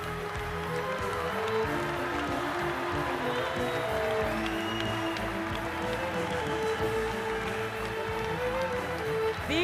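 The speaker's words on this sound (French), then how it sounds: "un tonnerre d'applaudissements pour tous les étudiants qui rentrent maintenant" A crowd applauds graduating Grande école, Master and PhD students of the class of 2023 as they enter a commencement ceremony, with steady continuous clapping and scattered cheering over a busy background.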